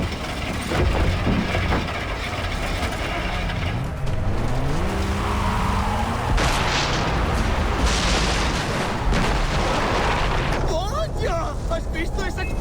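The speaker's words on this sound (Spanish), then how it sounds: "¿Has visto esa explosión? ¿Qué? ¡Ha explotado algo!" Explosion in the video game Far Cry 3, a loud rumbling blast amid roaring car engine and tire noise, with continuous heavy game sound throughout and voices exclaiming over it.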